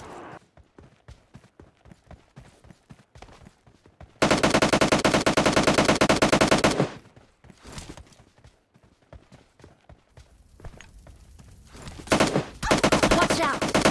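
Rapid automatic AKM rifle fire in the mobile battle royale game PUBG Lite, with dense sustained bursts near and loud alternating with scattered single shots and quieter stretches of in-game action.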